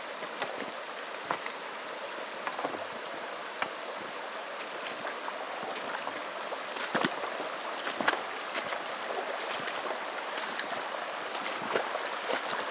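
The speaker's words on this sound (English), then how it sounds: "Crossing Bluff Creek, just like Roger and Bob." Water of Bluff Creek at a forest creek crossing, a steady close rush and babble with scattered splashes and ticks, alone without talk.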